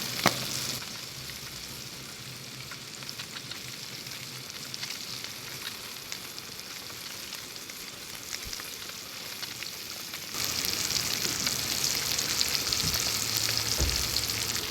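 Lake Michigan king salmon fillets frying in a pan outdoors in a parking lot, a constant close sizzle that grows louder and brighter near the end, with no talk over it.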